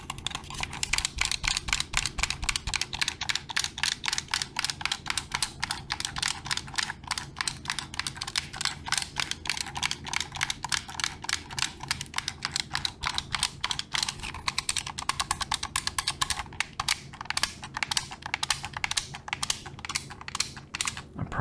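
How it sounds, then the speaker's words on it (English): Game controller buttons pressed rapidly and continuously during VRChat play, a dense, fast run of close, crisp plastic clicks lasting the whole stretch with no talking. "Just rapidly pressing those buttons."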